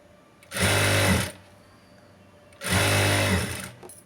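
A sewing machine stitches piping onto the waist of a blouse in two loud, steady whirring runs of just under a second each, with a short quiet pause between them and no talk.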